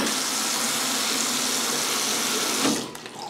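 Tap water runs steadily into a sink as a broad, continuous hiss that fills the clip, then cuts off abruptly near the end, leaving brief soft handling noise.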